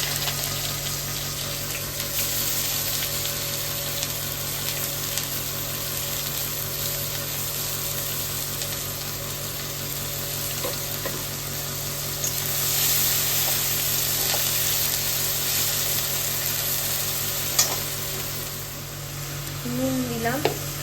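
Chopped onion with a little salt frying in reused fish-frying oil in a pan, a steady broad sizzle running the whole time with a faint tonal hum beneath.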